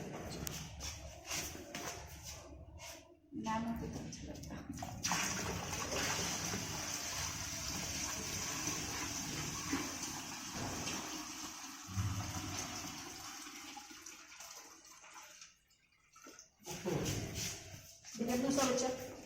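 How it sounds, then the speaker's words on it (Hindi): Water pours and splashes steadily into an aquarium tank for most of the stretch, fairly close and continuous, with brief pauses and people talking in the background. "अब पानी डाल दो।"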